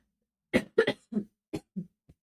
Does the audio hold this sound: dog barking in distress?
no